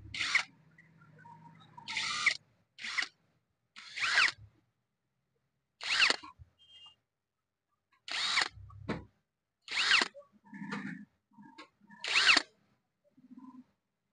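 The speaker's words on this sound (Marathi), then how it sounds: "आपले सर्व नट आता आपल्याला मशीनने टाईट करून घ्यायचे आहेत" A handheld electric power drill with an 8 mm bit tightens nuts on a cooler motor in a series of short, loud bursts with brief pauses and faint clicks and handling noise between runs.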